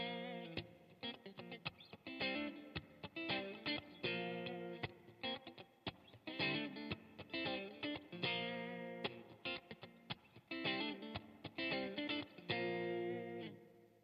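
An electric guitar played through a Fender amp with spring reverb on and the middle pickup selected, choppy funky chords and stabs with short gaps between them, clear and upfront with no talking.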